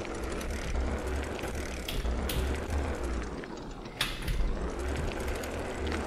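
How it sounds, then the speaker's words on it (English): A bicycle freewheel ratchet in an Unreal Engine 5.3 riding game, a steady rapid clicking of the pawl as the wheel coasts, continuous and fairly quiet over a hissy, noisy background with no voices. "you can see that neutral sound you usually get in bicycles."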